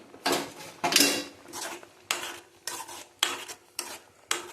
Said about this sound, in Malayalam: ഇനി ഇതിലേക്ക് നമുക്ക് റെഡിയാക്കി വെച്ച മുട്ട ചേർത്ത് കൊടുത്ത് ഒന്ന് ഇളക്കി കൊടുക്കാം കേട്ടോ